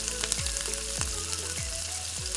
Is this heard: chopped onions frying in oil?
yes